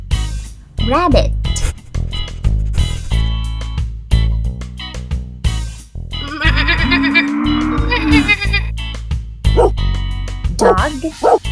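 A dog barks in short bursts amid a busy mix of other farm animal calls and a musical backing.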